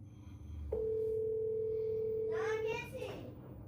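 A steady single-pitch tone from a phone video call that fails to connect, loud and unbroken for about two seconds, with someone speaking briefly as it ends.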